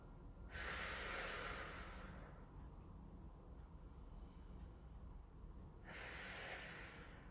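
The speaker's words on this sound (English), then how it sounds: "Exhale, blow out through the lips, engage the belly." Two soft, breathy exhales blown out through the lips during a yoga session, the first long and the second starting near the end, close and quiet against a faint room hush.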